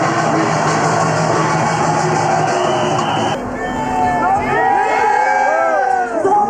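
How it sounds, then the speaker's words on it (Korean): A large crowd roaring and cheering at the start of the Gijisi tug-of-war festival contest, with shouts and whistling-like cries rising over the dense outdoor clamour. "신호와 함께 수만 명의 함성이 울려 퍼지고 사람들은 온 힘을 다해 줄을 당긴다."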